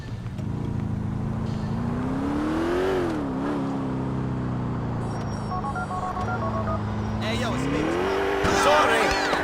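A video-game car with a manual transmission revs up and down through gear changes, its engine note rising and dipping steadily under game music and dialogue.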